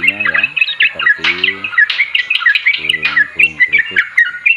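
A trucukan bird (burung kutuk) sings a rapid run of bright, bubbling chirps and warbling notes close to the microphone, continuous over several seconds, with low harmonic voice-like murmurs underneath at times.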